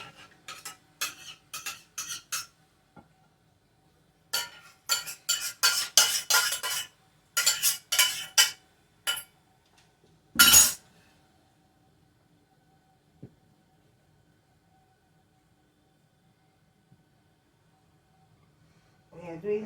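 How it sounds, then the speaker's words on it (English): Bread dough being mixed from a kilo of flour for soft bread, heard as bursts of scraping and clinking utensil-on-bowl stirring with pauses between, fairly close, then mostly quiet near the end. "mixing it, mix the dough, mix it, like form the dough"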